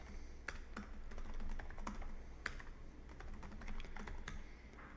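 Keys clatter on a computer keyboard in a steady run of quick, light strokes, close and fairly quiet, with no voices.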